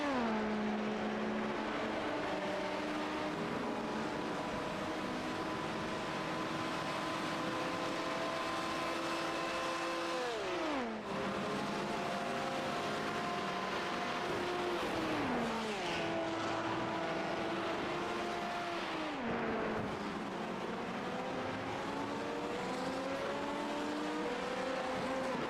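A GT3 race car engine screams in a sim racing endurance event through the Mulsanne corner, its high whine rising through the gears with sharp drops on downshifts and braking, loud and continuous.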